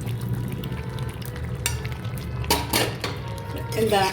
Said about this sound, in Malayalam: ഇതിലേക്ക് ചിക്കനിലേക്ക് ഈ വെജിറ്റബിൾസ് ഞാൻ ആഡ് ചെയ്യുന്നു